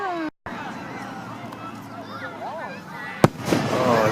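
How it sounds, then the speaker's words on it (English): Fireworks go off over the water at dusk as distant crackling and scattered pops, ending in one sharp nearer bang with lingering crackle, under a murmur of voices from a crowd. "Fireworks. Look over there, above the water."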